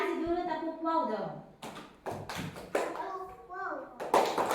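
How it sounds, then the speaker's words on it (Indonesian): Children in a classroom doing the "tepuk wow" clapping chant, chanting together with sharp bursts of hand claps cutting between their voices, close and lively. "Kasih dulu tepuk wow dong."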